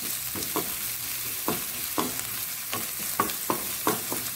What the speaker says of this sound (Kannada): ಚೆನ್ನಾಗಿ ಫ್ರೈ ಆಗಿದ್ದು